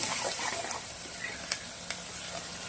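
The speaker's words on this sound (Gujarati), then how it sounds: "ડુંગળી પિંક કલરની થઈ જાય ત્યારે સુધી આપણે આવી રીતના શેકવાની છે" Chopped onions with whole garlic cloves frying in a pan for a village-style arbi dish, giving a steady close sizzle with a few faint stirring scrapes and no talk.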